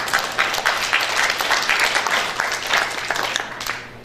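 An audience at a public lecture for engaged couples in a wedding hall applauds with brisk, fairly loud, continuous clapping that fades toward the end.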